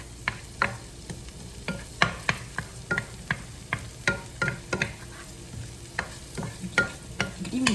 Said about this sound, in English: Keep sizzling. Keep the sizzling.